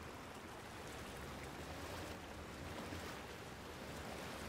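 Boat cruising down a river in Resident Evil Village, a steady broadband rush of water and engine wash that holds constant and alone throughout, with no talk.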